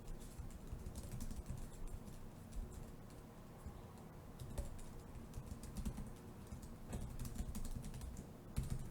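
Steady, rapid key clicks from typing on a Lenovo Chromebook Duet detachable keyboard, close and continuous, over a faint hiss.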